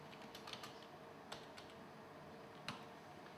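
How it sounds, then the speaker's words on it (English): Someone types on a computer keyboard with a few faint, sparse key clicks, soft and unhurried, against a quiet room background with no talking. "So if I type in St Anne's"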